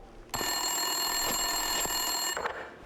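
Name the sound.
office telephone ringing in video game Max Payne 2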